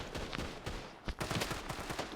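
Rapid gunfire in the video game Standoff 2, where an AWM sniper rifle is in use, comes as a quick string of sharp bangs, several in close succession, fairly loud against a busy in-game background.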